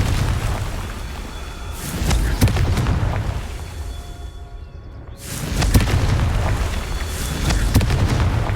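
Confringo blasting spells going off in Hogwarts Legacy: deep, booming explosions, a loud burst early on, a brief drop toward quiet, then another heavy blast with rumbling aftermath.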